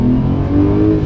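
Porsche 911 Sport Classic engine revving hard on a mountain pass, a loud, close, continuous throaty roar with a slight rise in pitch over a brief second.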